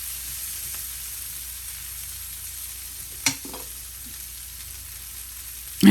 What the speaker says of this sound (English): And then we'll get the sausage in there and the basil. And give it a good stir.